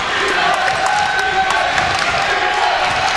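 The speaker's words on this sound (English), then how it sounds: "As the chants of defense reverberate from the crowd." Crowd at a college basketball semifinal, Yeshiva versus Old Westbury, keeps up a steady, dense roar of chanting in a packed gym, sustained and fairly loud throughout with no clear pauses.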